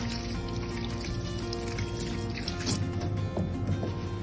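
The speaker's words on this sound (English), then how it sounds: "rinsing with nice warm water" Warm tap water runs steadily over hands being rinsed at a sink, a continuous close splashing trickle with light drips, heard alone without talk.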